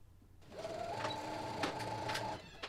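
A home sewing machine stitches pieces of a McCall's 7654 holiday dress: a steady, close whirring hum runs for about two seconds, then stops, with a few sharp mechanical clicks along the way.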